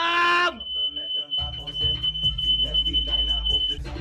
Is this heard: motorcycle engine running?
no